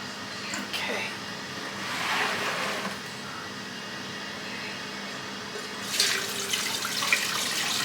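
Tap water runs into a measuring cup while okra pickle brine is being made, a steady moderate splashing stream with rising and falling flow, louder bursts near the start and end, and a voice speaking faintly in the background.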